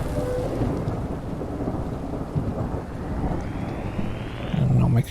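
Rain and rolling thunder in the Horror Tales The Beggar video game: a steady, loud wash of rainfall with low rumbles underneath and a brief heavier burst near the end.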